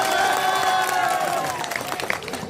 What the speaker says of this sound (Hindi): ताली बजाओ एक बार जोरदार।